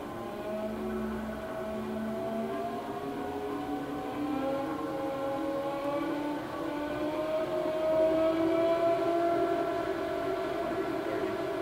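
A 35 by 91 inch Haas CNC hollow spindle lathe spindle runs in high range, a steady faint mechanical hum with a tone that slowly climbs and holds, heard alone in a quiet shop.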